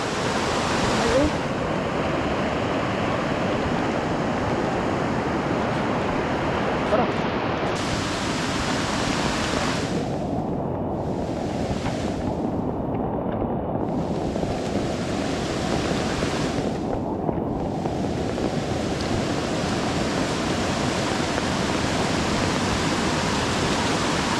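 Floodwater rushing along a swollen river bank, a loud, steady broadband roar that holds throughout without pause, close and constant like surf.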